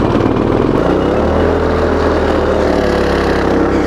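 A propane-fueled go-kart engine runs loud and close, a steady buzzing drone with a pitch that wavers and rises slightly partway through, heard alone without talk.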